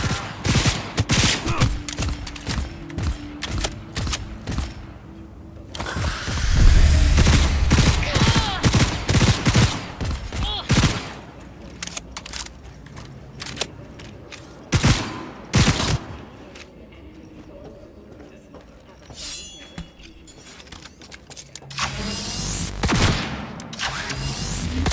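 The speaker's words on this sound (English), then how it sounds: "Shooting at me with my own gun. Malorian 3516. Signature sound." The Malorian 3516 pistol in Cyberpunk 2077 fires loud, close bursts of gunfire, with rapid, heavy shots and booming impacts that break up into scattered single cracks over the game's ambient noise.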